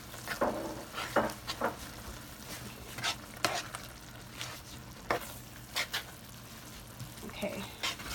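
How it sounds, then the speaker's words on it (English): A spoon stirs cornstarch into a Tuscan salmon sauce in a pan, giving soft scraping strokes at an irregular rhythm over a faint, low sizzle, fairly quiet and close. "To make the sauce just thicker, that's when you're going to add the cornstarch. And you're just going to keep stirring that in."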